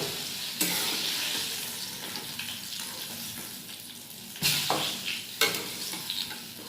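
Fried eggplant pieces are stirred and lifted from a pan of hot oil, with a steady soft sizzle and a few sharp utensil scrapes and clinks near the start and toward the end.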